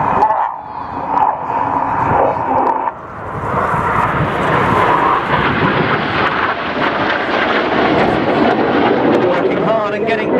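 A Twister aerobatic aircraft roars past at the 2014 Welshpool Air Show; the loud, broad engine noise swells and holds while an announcer talks over it.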